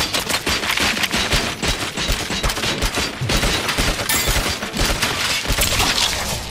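Dense, rapid gunfire in the RoboCop video game, a loud, continuous fusillade of overlapping shots and cracks with no pauses across the whole stretch.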